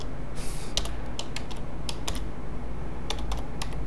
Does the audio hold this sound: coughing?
no